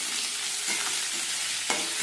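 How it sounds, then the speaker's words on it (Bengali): Small-cut potatoes frying with onion and curry leaves in a pan, a steady broadband sizzle throughout with a few soft stirring scrapes, no voices. "আলুটাকে ভালো করে ভেজে নেব পেঁয়াজের সঙ্গে"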